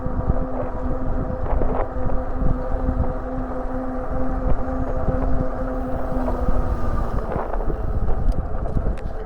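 Wind buffeting the microphone while riding a Kingbull Literider 2.0 ebike outdoors, a constant rumbling roar with a faint steady tone underneath.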